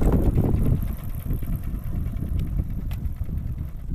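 A motorcycle engine labouring slowly up the Barela Hills road, a loud, rough low rumble that holds steady close to the microphone with no talk over it.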